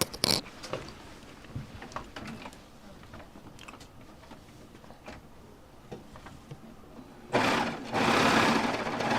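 A serger overlock machine stitches through thick home decor fabric. Its fast mechanical whirring and chattering runs in short, uneven bursts over several seconds, then turns into louder, denser sewing near the end.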